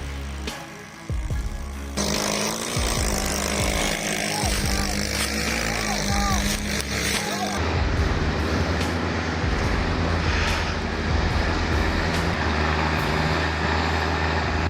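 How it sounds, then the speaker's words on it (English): A heavily loaded logging truck labors up a steep, winding slope at full throttle, its engine a loud, continuous low roar that shifts in tone partway through, with a voice talking over it. "The truck must climb each slope at full throttle."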